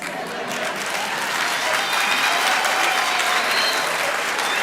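Sustained applause from an audience at a university chancellor inauguration ceremony in a large hall, steady and dense clapping filling the space without a break.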